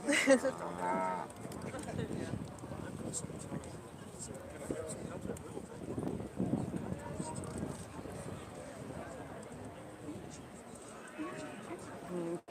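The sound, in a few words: Aberdeen-Angus cattle in show ring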